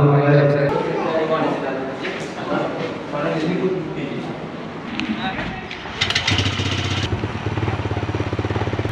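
A Bajaj Freedom 125 CNG motorcycle with a 125 cc engine runs under steady talking, its engine sound coming through more clearly and evenly in the last few seconds.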